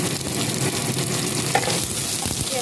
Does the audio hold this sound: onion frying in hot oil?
yes